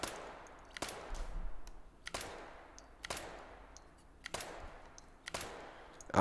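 A single-shot .22 Long Rifle tactical rifle in Hot Dogs, Horseshoes & Hand Grenades fires about six sharp, evenly spaced shots, each a crisp crack with a short decay, over a quiet background.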